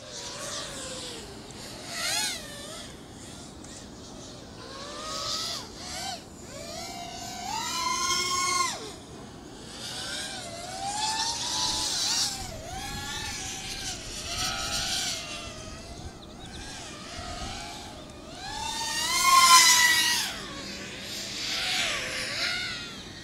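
An FPV racing quad powered by Racerstar SPROG-X 2205 motors whines through continuous flight, its motor pitch sweeping up and down with throttle bursts, fairly close and moderately loud, with no talk over it.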